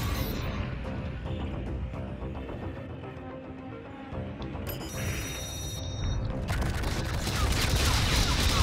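Rapid gunfire and rocket launches in a Call of Duty: Infinite Warfare battle, dense and loud, with electronic alert tones chiming in the middle and intensifying blasts toward the end, under occasional voices.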